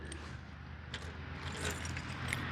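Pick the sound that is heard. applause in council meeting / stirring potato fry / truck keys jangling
truck keys jangling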